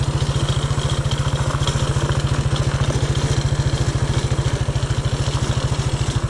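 A Honda CRF230 motorcycle engine chugs steadily in first gear, a close, loud and even thumping beat that continues throughout without any talking.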